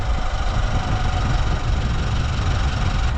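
A Chevrolet Silverado's 2.7-liter high-output turbo four-cylinder engine idles steadily and close, with a deep rumble and a faint ticking rhythm, running continuously without talk.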